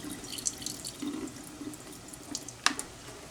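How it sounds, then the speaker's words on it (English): Water drains off cooled homemade lasagna noodles in a kitchen sink, a soft steady trickle with a few brief splashes and one sharper drip near the end, close and fairly quiet. "I'll drain that water off."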